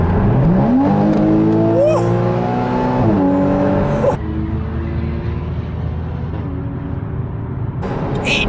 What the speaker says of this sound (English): this car can go from 7th gear down to 2nd in less than a second